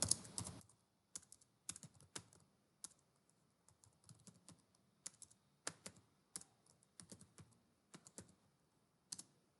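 Typing on a computer keyboard while entering a Unix grep command, a close run of light key clicks in short bursts with pauses between, with no talk.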